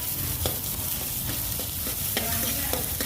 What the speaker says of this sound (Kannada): ಈರುಳ್ಳಿಯನ್ನು ಹಾಕಿ ತಿರುವಾಡಿಕೊಳ್ಳಿ.